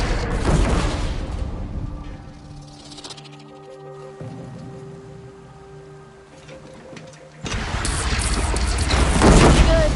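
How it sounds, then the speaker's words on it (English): Heavy cannons blast in a video game about fighting machines: a loud, rumbling boom opens, fades into a calmer interval, then another big roaring discharge bursts in and swells until the end. "Cannons have aged well, but I've cleared their throats so they can really roar."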